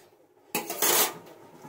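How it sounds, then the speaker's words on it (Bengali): A lid set onto a cooking pot during home cooking of boiled banana flower and soaked chickpeas: one brief metallic clatter and scrape, near and moderately loud, then quiet. "ঢাকা দিয়ে দেবো"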